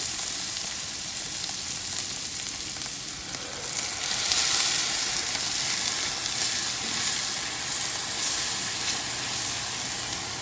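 Cream is poured into melted butter in a hot pan for a shiitake mushroom pasta sauce, producing a loud, steady sizzle and hiss that swells midway and continues close up without talk.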